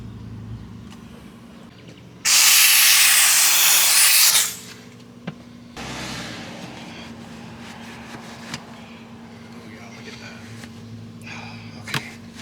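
A loud blast from an air-powered cleaning gun sprays a car's carpet for a couple of seconds, stops, then resumes as a softer continuous spraying hiss with occasional clicks.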